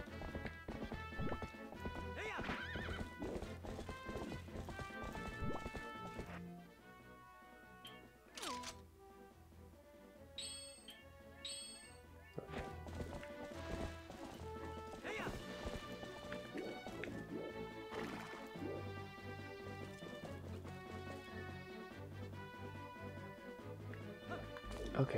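Horse hooves clip-clop at a gallop with an occasional whinny in The Legend of Zelda: Twilight Princess HD, layered over steady game music that dips briefly midway; a voice talks at times.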